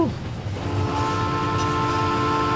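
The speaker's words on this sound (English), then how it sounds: "That's the train. That's the train." A train in My Summer Car passes on the railroad as a loud, sustained rumble with droning tonal hum, swelling up after a brief opening sound and holding steady to the end.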